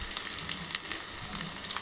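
Crushed garlic frying in hot oil for a tempering, a brief dense crackling sizzle with small pops, steady and close, no voices.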